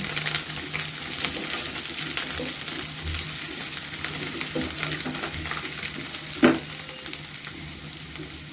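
Eggplant and pumpkin pieces crackle and sizzle in a pan while a utensil stirs them now and then, with one louder clatter near the end.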